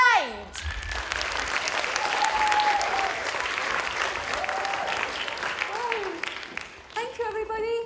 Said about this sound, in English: Can we please welcome to the stage, give her a lovely big clap, Angie Sage.